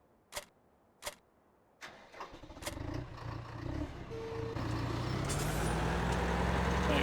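A tractor in Farming Simulator 17 starts up after a few sharp clicks, its engine catching and settling into a low, steady rumble that builds and holds close by, with no talk over it.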